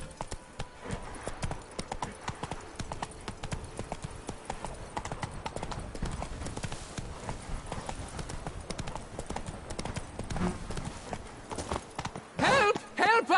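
Roach, the horse in the video game The Witcher 3, clip-clops along in a rapid, steady run of hoofbeats over ground. Near the end a voice briefly speaks over the hooves.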